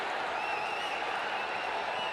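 A packed cricket stadium crowd roars and applauds during a tense super over, a dense, continuous wash of cheering that holds steady without a break.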